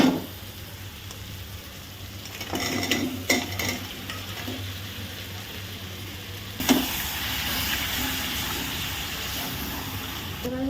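Crab curry being stir-fried with turmeric, chilli powder, cumin, green chilli and garam masala in a pan, with a steady sizzle and scraping stirs that rise at intervals and grow busier in the second half.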